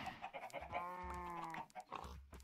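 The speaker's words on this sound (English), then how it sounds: "Follow me, chickens." Minecraft chickens in Agrarian Skies cluck in short repeated calls with one drawn-out squawk, close and clear over a quiet game background, with no talk.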